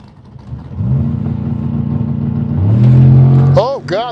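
A Chevy S-10 drag pickup truck and a 2024 Tesla Model S Plaid launch hard nearby, the engine tone climbing, then rapid whooshing sweeps as they speed past; a voice exclaims briefly over the noise.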